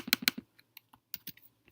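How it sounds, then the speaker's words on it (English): Fingers tap out a command on a computer keyboard in quick clicks, first a fast burst of keystrokes and then a few scattered, sparser presses, close and clear with no voice. "I go to the ADB shell and type in this particular command"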